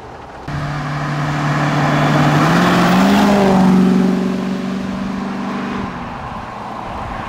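A Land Rover Defender 110 converted to a 4.6 V8 engine drives on light throttle, a steady low engine drone that swells slightly as it pulls, then eases back, with road noise and no talking.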